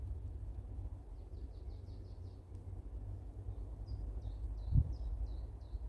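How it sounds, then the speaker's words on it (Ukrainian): Nightingale song in a spring forest: two runs of short, evenly spaced high whistled notes, fairly distant and soft over a low rumbling background, with one brief thump near the end. "Чоловічий Соловейко, скажімо, хлопчик Соловейко, співає віть-віть, а дівчинка йому відповідає тьох-тьох."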